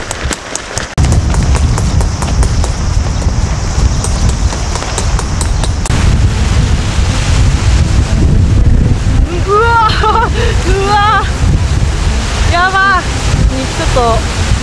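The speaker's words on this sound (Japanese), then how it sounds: "これ以上ちょっと嵐が強くなったらテントが飛ばされるかも" Stormy wind and sea at a seaside campsite roar loudly, with gusts buffeting the microphone throughout; a voice briefly cuts in near the end.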